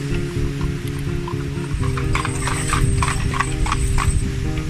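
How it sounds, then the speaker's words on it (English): Horse pulling a cart along a road in northern Germany, hooves clip-clopping in a steady rhythm up close over a loud constant rumble of wind and road noise. "First time I've seen a horse and cart out here."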